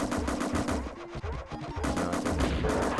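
Missile and machine gun fire in the Steel Talons helicopter game, dense, rapid rattling bursts with low thumps, dipping briefly before the gunfire resumes in a steady chattering stream, tonal game sounds weaving underneath.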